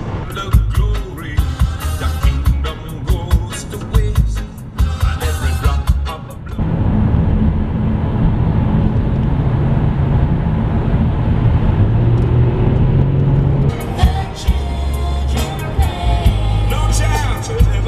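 Inside a moving Pontiac Grand Prix, a steady low engine and road rumble fills the cabin throughout, with people talking loudly over it at the start and again near the end.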